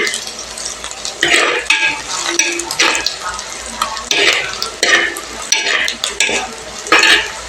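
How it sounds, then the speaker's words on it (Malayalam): Spoon stirring a frying mixture in a pan after tamarind is added, repeated scraping strokes in an uneven rhythm over a soft sizzle, close and fairly loud. "വാളംപുളിയും കൂടെ ഇട്ടിട്ട് നന്നായിട്ട് ഇളക്കുക."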